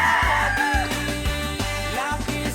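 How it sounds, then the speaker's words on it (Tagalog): Chickens and a rooster on a farm with over 200 chicks, a rooster crowing loudly up close among clucking and cheeping birds. "Nasa mahigit 200 daw to na sisiw"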